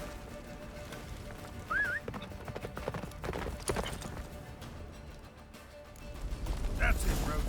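Roach the horse gallops in The Witcher 3, hooves drumming rapidly beneath wind and game ambience, with someone speaking over the hoofbeats and a brief whinny-like squeal.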